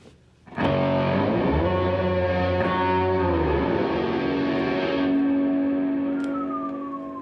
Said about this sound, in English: And then with a little reverb.